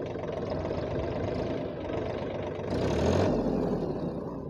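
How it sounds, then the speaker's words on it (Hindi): A Mahindra Oja 2127 27 HP tractor runs close by with a dense, steady diesel drone. Partway through, a brief surge and hiss mark the shift into reverse as the hydraulic lift rises, then the drone settles again. "जब मैं इस ट्रैक्टर को रिवर्स लूँगा तो रिवर्स लेते ही इसका जो हाइड्रोलिक है ये अपने आप ऊपर उठ जाती है।"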